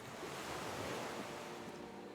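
Ocean waves and surf washing in the Disco Elysium video game as a character walks into cold water, a soft continuous wash of breaking water with a windy hiss, quiet and without speech.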